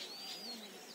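Birds calling near forest-edged farmland with onion fields: a thin, high whistling call carries over soft outdoor ambience for a single short moment.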